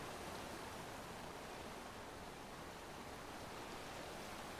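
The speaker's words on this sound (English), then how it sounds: "Filling the room with water." Water rushing steadily into a flooding chamber in Metroid Prime Remastered, a dense, even broadband wash like a stream or waterfall that holds level for the whole stretch with no talk over it.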